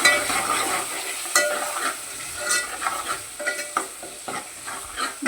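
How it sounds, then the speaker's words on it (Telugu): Turmeric being stirred into a frying drumstick and tomato curry in a pan, with repeated scraping stir strokes over a steady sizzle, close and moderately loud, no talking. "పసుపు వేసుకుందాం. కలుపుకుందాం ఒకసారి."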